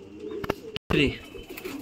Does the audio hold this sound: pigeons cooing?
yes